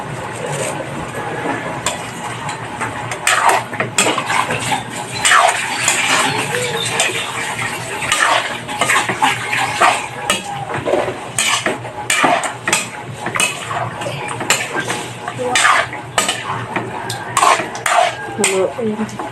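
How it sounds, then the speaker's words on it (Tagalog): Pork adobo is stirred in a pot with repeated metallic scrapes and clinks of a spoon against the pot, set over a simmering background, with a person speaking intermittently. "haluin muna natin"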